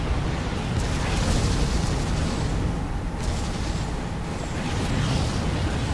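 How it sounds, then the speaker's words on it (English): Explosions ripple constantly through a Star Trek Armada 3 space battle against a Klingon fleet, a loud, dense and continuous roar of booms and bursts with no voices. "There are explosions everywhere"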